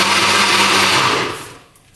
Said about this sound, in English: So we put on the lid and let's blend this for 2 seconds.